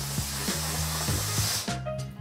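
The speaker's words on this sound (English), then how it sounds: "For this, we can use our window nozzle with our steam cleaner to achieve the ideal cleaning result." A Karcher steam cleaner fitted with a window nozzle cleans a glass shower screen, giving a steady loud spray hiss with a low rhythmic squeak of the nozzle dragging across the glass, then easing off near the end.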